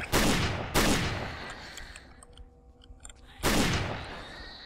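Firearm shots in the Project Zomboid video game come as three loud, booming blasts, each trailing off over about a second, with a quieter gap of faint clicks between the second and third.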